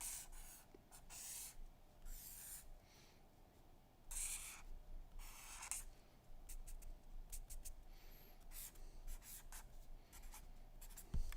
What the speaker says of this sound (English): I'm drawing you a picture.